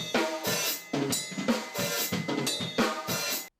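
A beginner plays a drum kit poorly. The hits are loose and somewhat irregular, roughly twice a second, with cymbal wash between them, at moderate volume and with no voice.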